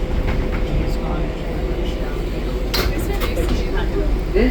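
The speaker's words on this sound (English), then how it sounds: "This is a Flushing Main Street bound 7 local train." An R188 7 local subway train in New York rides toward Flushing Main Street with a loud, steady rumble and roar of wheels on rail, punctuated by occasional clanks and squeals, while voices talk faintly under the noise.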